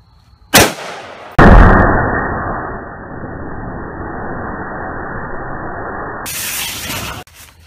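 An explosive blast set off inside a pumpkin, a sharp bang followed by a loud, long rushing hiss of burning or spraying that cuts off abruptly, heard outdoors.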